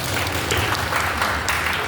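Audience clapping during a Sunday morning religious study gathering, a short dense burst of many hands at an even level, heard alone without speech.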